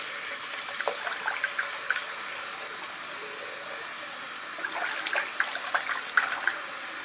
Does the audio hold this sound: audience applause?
no